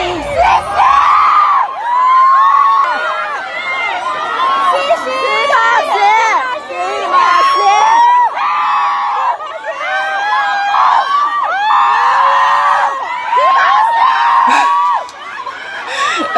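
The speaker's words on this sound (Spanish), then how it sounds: "Los gritos." A large concert crowd screams and cheers in dense, high-pitched waves of shrieking that carry on almost without a break, loud and close, with voices mixed into the roar.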